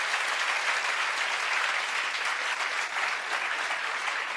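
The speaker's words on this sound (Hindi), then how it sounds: "चलो जोरदार तालियां बजा दो इन बच्चियों के लिए।" Steady, dense clapping from a classroom audience, continuous and fairly loud throughout, with no pauses or voices rising above it.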